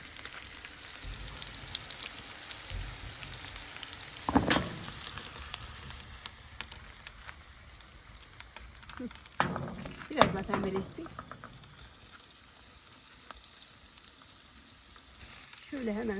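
Purslane stems and onions sautéing in a pan, a steady sizzle with a few louder stirring clatters and scrapes, and a person talking at times over the frying.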